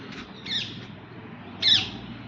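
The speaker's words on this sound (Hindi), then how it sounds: "ये मॉर्निंग व्यू देखिए, पक्षियों की आवाज़ें सुनिए।" Birds calling outdoors on a cold, sunny morning, two short high chirping phrases about a second apart, fairly clear against a quiet background hum.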